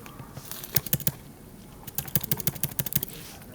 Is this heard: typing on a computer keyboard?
yes